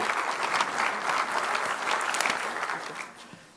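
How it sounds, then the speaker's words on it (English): An audience gives steady, full applause to welcome a keynote speaker on healthy living, a sustained wash of clapping that tapers off toward the end. "Can we have a big round of applause"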